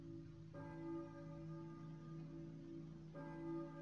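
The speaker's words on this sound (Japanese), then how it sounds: "鐘の音、教会の鐘か。" A church bell tolls in the Silent Hill video game, two low, sustained ringing strikes about two and a half seconds apart, each decaying slowly. They sound faint and distant over a quiet hum, with no voices.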